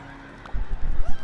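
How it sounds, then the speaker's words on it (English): A brief horse whinny followed by a burst of quick hoofbeats clattering away in a LEGO Dimensions video game, short and fairly loud. "Even the horse ran away."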